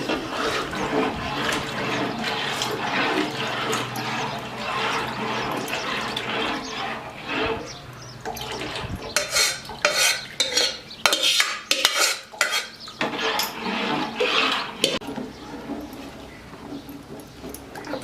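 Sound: stirring wheat flour into boiling water for kurdai

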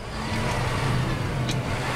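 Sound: John Deere tractor engine revving in neutral

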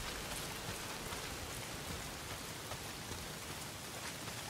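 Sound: heavy rain in video game Days Gone

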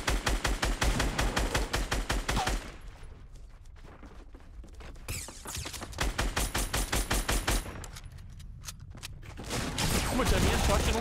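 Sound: minigun firing in video game Fortnite

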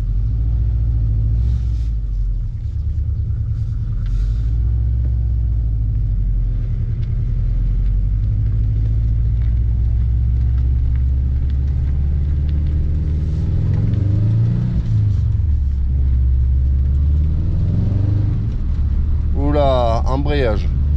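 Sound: cheap Subaru car rumbling while driving

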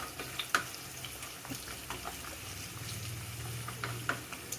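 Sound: carrots frying in a pan

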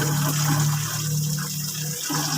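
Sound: water being poured over cats

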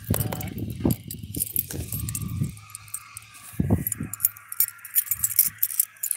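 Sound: keys jangling

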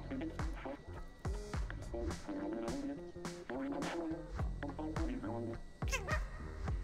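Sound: cat meowing in the video game Stray

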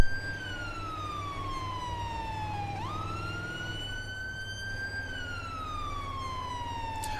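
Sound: ambulance siren responding code, from video game GTA San Andreas roleplay

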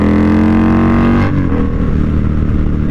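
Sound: Indian Scout Bobber motorcycle engine revving

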